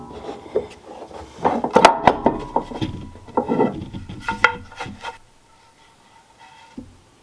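Excess glue is scraped off a wooden speargun blank in a run of sharp, uneven scrapes and rubs, close and fairly loud, then they stop and only quiet handling remains.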